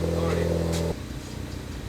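Ford Focus ST fitted with an AWE Track Edition exhaust idling low and steady after a cold start, then cutting off abruptly under a second; voices talk nearby.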